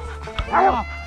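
A bear-hunting dog lets out a single short bark-like yelp near the woods, close and brief over a low background hum.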